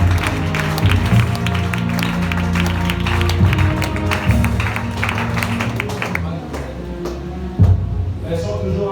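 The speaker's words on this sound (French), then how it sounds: "On acclame pour le Seigneur" Church congregation applauding and acclaiming the Lord at a healing testimony service, sustained clapping and crowd noise with music and voices underneath, a louder burst near the end.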